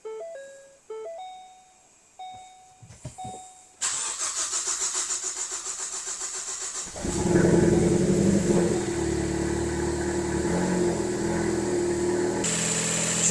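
A car engine cranks several times with starter whine, then catches on its first start after a cylinder head replacement, settling into a steady, loud idle close by.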